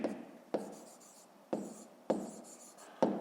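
A pen scratches across paper in short strokes, four or five quick bursts each starting with a sharp tap and trailing off, close and quiet with no talking.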